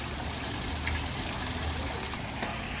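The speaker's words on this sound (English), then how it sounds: "Walking up to a gorgeous fountain. Can you guys hear the water?" Water of an outdoor fountain beside a waterfall feature outside a sushi restaurant, a continuous close rushing and splashing wash with no pauses, heard alone without speech.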